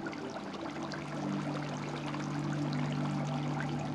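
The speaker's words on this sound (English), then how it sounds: "The recirculation system provides a constant supply of clean water." A fish tank's water recirculation system runs steadily, with a continuous pouring, trickling flow over a constant low hum, alone and unbroken throughout.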